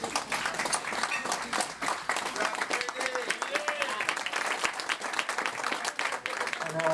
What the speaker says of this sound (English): please give Katie a big round of applause.